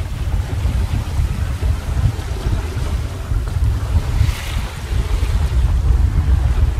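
A sailboat tacking out to sea along a coastline, with steady wind and wave wash over a low rumble from the hull moving through water, continuous and fairly loud throughout.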